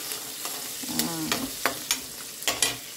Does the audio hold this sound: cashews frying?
yes